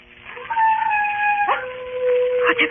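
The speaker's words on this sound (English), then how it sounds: "There are wild dogs on the moor. Sometimes they bay and howl." A dog howls in long, wavering tones, the howl rising and breaking partway through, heard fairly close with no other sound around it.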